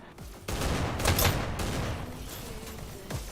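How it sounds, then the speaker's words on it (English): Gunfire from a VR shooter esports match, a dense fusillade of shots bursting in after a short quiet start and carrying on loud and busy, with a few sharper cracks standing out near the beginning. "Oh, wow, nice headshot on Classic"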